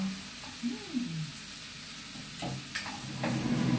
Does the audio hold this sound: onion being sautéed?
yes